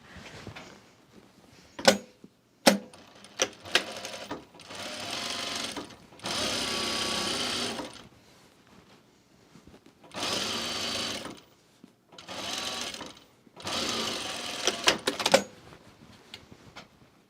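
Sewing machine stitching fabric in close, quiet bursts of steady whirring, several runs of a second or two separated by pauses with sharp clicks and handling taps between them.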